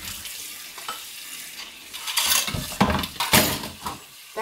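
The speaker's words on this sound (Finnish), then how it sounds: "Ja sitten astiat laitetaan tänne." Dishes being set into a sink basin filled with water and a little dish soap, producing faint sloshing and stirring, then louder clinks and thuds of crockery and cutlery near the end, with no talk.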